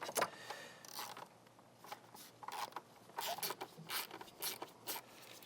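Two E6 Torx bolts near a car's oil filter are loosened and removed, giving quiet, close ratcheting clicks and short metallic bursts in irregular clusters.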